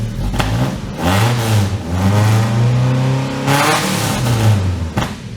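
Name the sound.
old Toyota truck engine revving through new exhaust muffler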